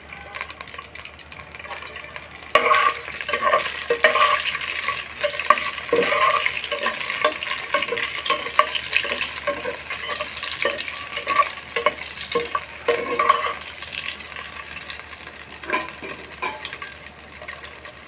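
Eggs frying with a little salt in a pan give a soft sizzle beneath repeated scraping and stirring of a spatula, fairly close and moderately loud throughout.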